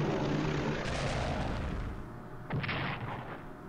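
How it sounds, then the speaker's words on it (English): Bombing raid on Japan in the video game Strategic Command, heavy booming blasts rumbling in a dense wash, with a fresh explosion bursting midway before the roar settles lower. "Let's bomb it."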